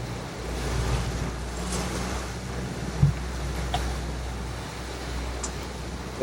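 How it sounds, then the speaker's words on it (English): Steady wind and sea noise wash over the microphone in a low continuous roar on a fishing boat inshore off Eastbourne, with a single soft knock midway and no voices. "it's quite windy now"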